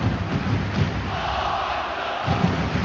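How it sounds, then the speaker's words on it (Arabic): Basketball crowd in an arena cheering and chanting for the players during an Al Ahli Halab versus Sagesse game, a steady loud roar of many voices with rhythmic chant pulses. "شوف الجمهور قد عم بيأزر كل لاعب عم بيعمل شيء مهم على أرض الملعب"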